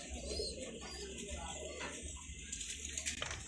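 Racing pigeons cooing and calling as they return to the loft, soft bird sounds over steady outdoor background noise, with faint voices nearby.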